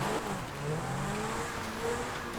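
A Pegassi Vacca supercar in GTA Online runs on dirt, its engine note droning steadily with small pitch swells over a rough, noisy texture. No voices are heard.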